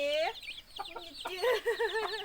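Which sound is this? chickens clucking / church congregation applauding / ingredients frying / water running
chickens clucking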